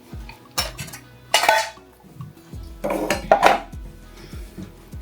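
Chickpeas tipped into a cooking pot for a veggie pot pie, giving a few separate clattering, rattling bursts against the metal, close by and with no talking.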